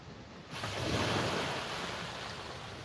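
Waves washing onto a beach after a storm, a broad steady surf hiss rising after half a second and holding loud and close, mixed with wind, no talking.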